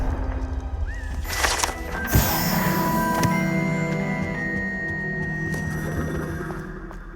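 Confringo, the fiery blasting spell in Hogwarts Legacy, strikes with a sudden explosive crack midway, preceded by whooshing game effects and followed by lingering ringing tones and ambient game sound, with no talk.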